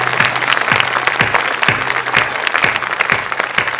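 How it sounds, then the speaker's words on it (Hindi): Sustained audience applause fills a stage recital of Hindi verse attended by a minister, with a steady wash of clapping and a few sharper, regularly spaced claps standing out close by. "मंत्री जी आप ताली बजा रहे हैं, बहुत अच्छा"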